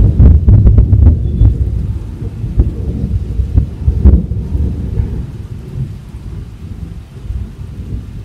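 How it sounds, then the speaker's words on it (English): Thunder rumbles through a heavy rainstorm, with a loud rolling burst at the start and further crackling rumbles over constant rain hiss and some wind buffeting on the microphone. "I don't even know if you guys are going to be able to hear me over this thunder"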